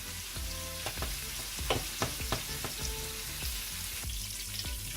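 Shrimp sizzle and fry in a pan for Jamaican-style curry shrimp, a steady crackling bed with a few sharp clinks and stirring scrapes, close and moderately loud, with no talking.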